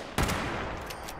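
A quad-firerate lever action rifle in the video game Fallout 76 fires one crisp, loud shot, followed by a faint trailing echo and a lighter report.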